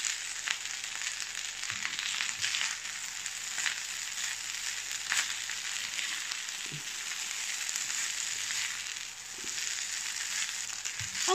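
Fried rice with pineapple and shrimp sizzles and crackles steadily in a hot pan while being stirred, with occasional scraping clicks over a constant frying hiss and no voices.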